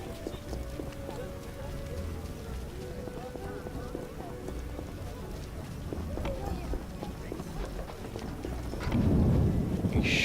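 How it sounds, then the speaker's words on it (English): Steady rain patters in a medieval town in The Witcher video game, with low rumbles of thunder and a louder burst near the end, under occasional game sounds. "Damn rain."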